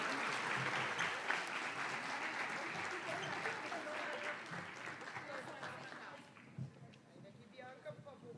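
An audience applauds winners at an award ceremony for writing and drawing prizes: dense, sustained clapping fills the room, then thins out and tapers off near the end.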